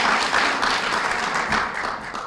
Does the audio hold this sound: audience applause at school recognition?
yes